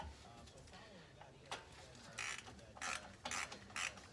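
Quick bursts of a ratchet wrench click and rasp while brake caliper bolts are worked loose on a Pontiac G8 GT front passenger side, several short ratcheting runs separated by brief pauses, close and fairly quiet.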